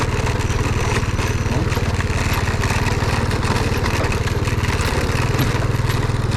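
A Honda CRF motorcycle engine running steadily close by, a constant throbbing idle with a fast, even pulse and no talk over it.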